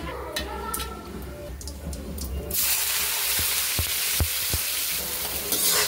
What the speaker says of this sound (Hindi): ये जीरा भी भुनने लगा है।